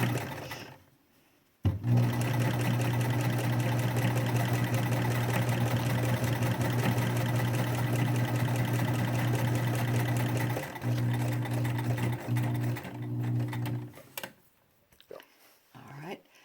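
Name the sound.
sewing machine stitching fabric masks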